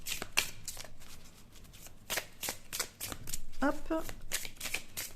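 A deck of tarot cards is shuffled by hand up close in a series of quick riffling bursts, and a voice speaks briefly over the card noise.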